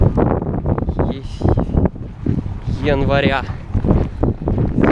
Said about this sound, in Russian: Извиняюсь, то что ветер дует.